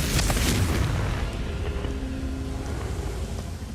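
A Confringo fire-blast spell from Hogwarts Legacy goes off with a loud, deep boom at the start, then a rumbling roar fades slowly over several seconds.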